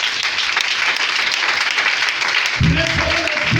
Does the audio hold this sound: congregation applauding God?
yes